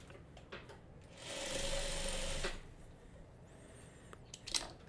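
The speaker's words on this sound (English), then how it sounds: "And I will sew the final piece to the star." A sewing machine stitches the final piece onto a Farmer's Wife Star Gardener quilt block in one short, steady run of about a second and a half, framed by quiet handling clicks and rustles before and after.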